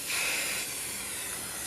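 Aerosol spray can being sprayed in a crafting project, a close steady hiss that swells at the start and then holds evenly to the end.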